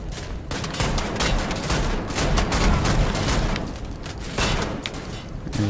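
Sustained, loud gunfire from Wolfenstein: The New Order, dense overlapping bursts and booms filling the whole stretch with only brief dips, close and continuous with no talk.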